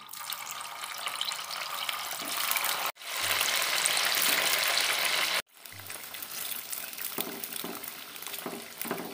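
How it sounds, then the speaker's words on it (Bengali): Pakoras sizzling and crackling in hot oil in a large wok, a loud, dense, continuous frying hiss close up, broken by two brief cuts. "এরপর পকোড়া বা স্ন্যাক্সগুলো আমি একটা একটা করে ছেড়ে দেবো।"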